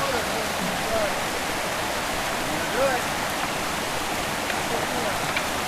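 Creek water rushing over rocks on a mountain hike, a steady broadband roar close by with no pauses, faint bird chirps above it.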